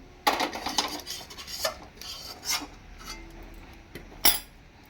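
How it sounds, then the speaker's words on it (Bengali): Green bean paste is scraped and poured from a pan into a dish, with several sharp metal clinks and scrapes of cookware and utensils, close and fairly loud against a quiet background. "আমি পাত্রটাই সেট করব, এটাই ঢেলে নিলাম।"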